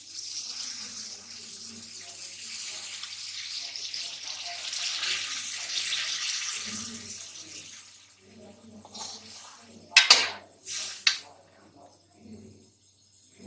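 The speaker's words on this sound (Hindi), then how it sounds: "2 से 3 गिलास हम इसमें पानी शामिल करेंगे।" Water is poured from glasses into a pot of cooked potatoes and capsicum for pulao, giving a sustained splashing pour for several seconds followed by a few sharp clinks and knocks against the pot.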